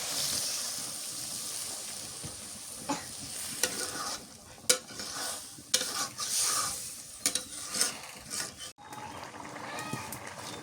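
Gourd greens cooking in a pan after a little water goes in, steady close sizzle and hiss with repeated scraping stir strokes and clinks of the spoon against the pan.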